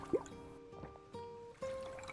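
Water poured from a water skin, a soft splash followed by gurgling, trickling liquid with a couple of clear filling tones, quiet and close, with no one speaking.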